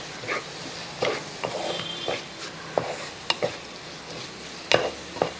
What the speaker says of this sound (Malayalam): ഇനി അതും കൂടെ കൂട്ടി ഒന്ന് ഇളക്കി കൊടുക്കുക